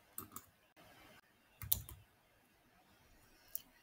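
A computer mouse being clicked, giving a few sharp, faint, isolated clicks spread across a quiet stretch.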